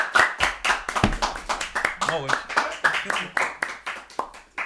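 A small audience claps in an uneven, rhythmic patter at a French Beyblade awards ceremony, with fairly close individual claps and people talking over the applause.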